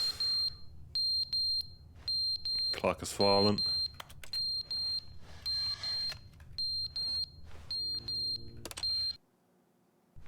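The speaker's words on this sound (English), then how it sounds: "Fucking smoke alarm." A smoke alarm in the video game The Stanley Parable beeps in repeated short, shrill bursts at a steady rhythm, briefly interrupted by a voice and other game sounds, then stops abruptly near the end.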